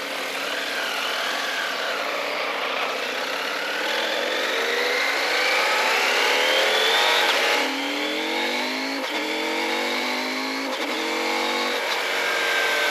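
A CF-Moto Ibex 800 motorcycle engine accelerates hard, revving upward through a rising whine and then climbing again after quick gear changes. The sound is loud and close, with no talk.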